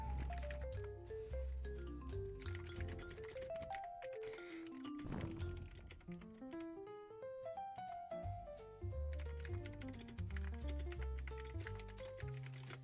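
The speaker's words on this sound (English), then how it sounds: "my microphone just picks up all my typing, so when I type, it's like, it sounds like a sound effect." Rapid clicking keystrokes on a computer keyboard, caught by a nearby streaming microphone, patter in uneven bursts with brief pauses, close and fairly quiet, with no talking.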